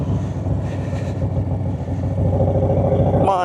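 A Harley-Davidson Low Rider ST motorcycle rumbles steadily while being ridden to work. The engine drone is loud and close, with a brief burst of wind or clatter at the end.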